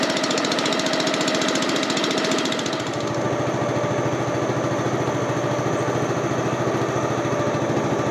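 Motorboat engine running steadily near a jungle camp in the Cardamom Mountains, a loud continuous chugging drone with rapid rhythmic pulses that briefly shifts tone about a third of the way in.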